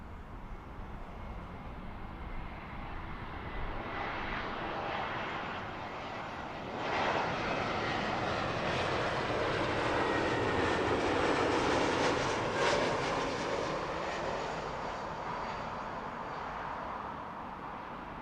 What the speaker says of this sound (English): This is Lufthansa 904 in from Frankfurt on an A320neo.